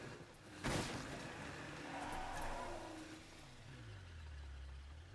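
A car in the video game State of Decay 2 drives off, its steady engine hum rising into a lower revving drone near the end after a brief sharp knock, with no talk over it.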